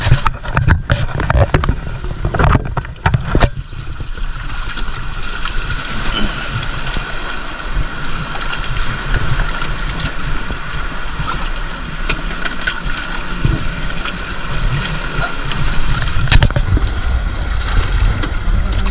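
Large waves surge and wash around a small fishing boat at high tide during night lobster spearfishing, a loud continuous rushing roar of water and wind with occasional knocks against the hull.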